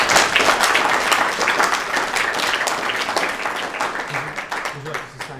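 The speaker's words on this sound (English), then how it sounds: "We'll give him a round of applause." An audience claps in a round of applause at a community gathering, with dense, even clapping that tapers slightly toward the end while a few voices murmur underneath.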